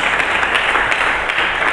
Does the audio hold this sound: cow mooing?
no